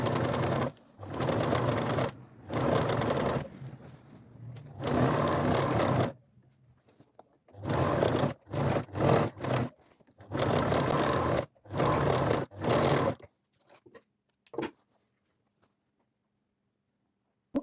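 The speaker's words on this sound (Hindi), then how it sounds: "तो अब सिलाई करने से पहले मैं इसके क्रॉच पार्ट से बॉटम पार्ट की जो सिलाई है उसको ओवरलॉक कर लूँगी" An overlock sewing machine serges the crotch-to-bottom seams of men's shorts, running in several loud bursts of steady whirring stitching separated by short pauses, with no talking.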